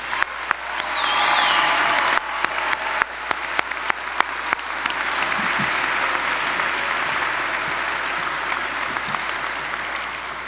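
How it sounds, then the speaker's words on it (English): A crowd at a 2018 senior class graduation ceremony breaks into sustained applause for the mothers present, a steady wash of many hands clapping with sharp individual claps standing out throughout. "I would like to start with a cheerful round of applause for all of the mothers in the room."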